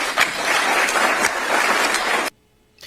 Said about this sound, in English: All the people applauding in the audience